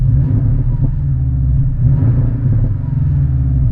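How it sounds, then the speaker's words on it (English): A Porsche 718 Cayman GTS with a Fabspeed Supercup exhaust idles in sport mode at slightly raised revs, a loud, deep, throaty rumble held steady with small swells, alone without talk. "Let's go to sport. Here the RPMs come up about 100 or 200. Definitely hear it's more audible."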